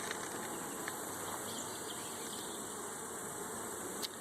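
Honey bees buzz steadily around an open hive being inspected for varroa, a continuous close insect drone with occasional louder passes near the microphone and no talking.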